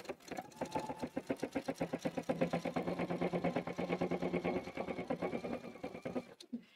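A sewing machine stitches fabric in a fast, even run of mechanical clicks, close and steady for several seconds before stopping.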